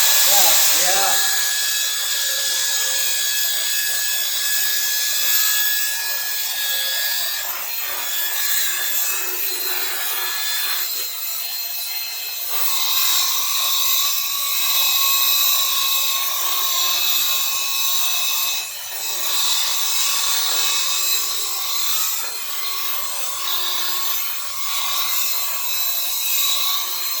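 Stainless steel light bar being sanded and polished, a continuous loud whirring and rubbing hiss from the polishing work with shifting intensity throughout, and voices talking intermittently beneath it.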